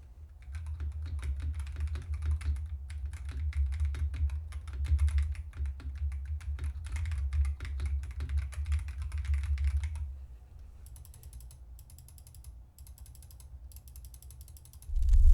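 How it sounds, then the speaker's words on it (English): Rapid computer keyboard typing with a low hum underneath, followed by a few seconds of crisp, spaced mouse clicks, then a sudden thump. "Here's what this setup sounds like if I start typing and clicking the mouse."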